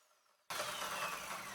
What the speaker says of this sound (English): you can hear the motor struggling just a little bit there, and for hard maple that does not surprise me